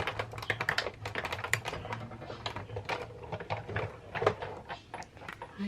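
A Big Shot die-cutting machine cranks paper pieces and cardstock letters held with washi tape through its rollers, giving a close, steady run of small clicking and ratcheting ticks throughout with no talking.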